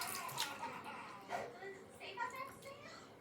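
Water runs and splashes quietly from a tap into a sink or basin during a homemade face mask session, a soft continuous trickle with people talking over it.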